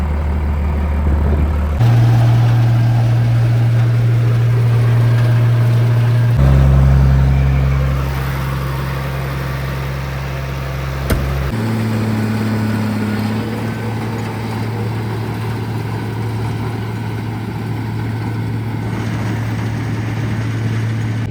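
Tractor engine with a broken muffler and holed exhaust runs steadily for a long stretch, a loud low raspy drone that shifts in pitch a few times as the revs change.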